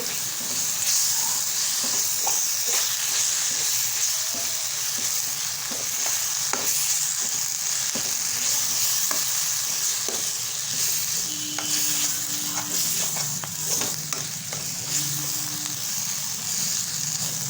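Besan (gram flour) is stirred in a hot pan for a zunka, a steady sizzle and hiss running throughout with scraping spoon strokes and occasional clinks, close and fairly loud, no voices.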